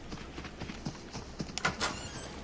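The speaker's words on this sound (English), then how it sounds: "I hear some footsteps outside." Footsteps outside a camping setting, a slow run of soft irregular thuds, faint and somewhat distant, a little louder and closer toward the end.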